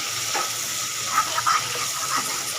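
Tomatoes, bay leaf and curry leaves are stirred in a hot pan, a soft steady sizzle broken by a few light scrapes and wet bubbling pops from the spoon.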